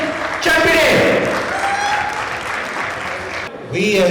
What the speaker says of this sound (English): Please again give a big round of applause for Mr. Suresh Chapdi